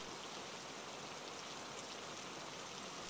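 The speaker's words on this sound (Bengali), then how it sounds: "বৃষ্টির তেজ এতটুকুনিও কমেনি, সেই সাথে বইছে ঝোড়ো হাওয়া।" Heavy rain from a cartoon ghost story pours as a dense, even, steady hiss of rainfall with no breaks and no other sounds, fairly faint throughout.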